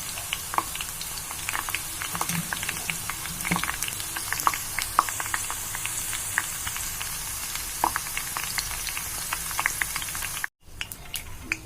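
Okra (bhindi) frying in a pan, a steady close sizzle scattered with small crackles and pops, broken by a brief dropout near the end.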